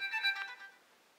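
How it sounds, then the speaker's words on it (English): A few short, bright electronic notification chimes from a Motorola DEFY XT557D smartphone on Republic Wireless, quick tones fading out within about a second, nearby and alone. "You can hear the little notification sounds."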